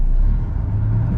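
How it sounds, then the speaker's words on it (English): Steady low rumble of cars moving along New York City streets, a continuous close traffic drone with no distinct pass-bys. "You see a lot of cars out and about, parked along the sidewalks, driving around"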